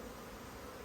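Honey bees on a hive frame give a steady, close buzzing drone that holds evenly throughout with no pauses.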